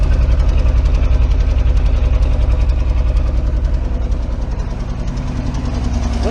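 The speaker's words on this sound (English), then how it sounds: "Look at that, she's idling and everything." A heavy old Ford crew cab truck engine idles close by, a steady low rumble with a rhythmic knocking pulse and no voices.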